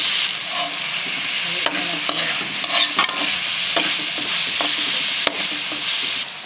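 Onions sautéing in a pan for adobo, loud close sizzling with a rhythm of clinking, scraping strokes from a spatula stirring, and no one talking.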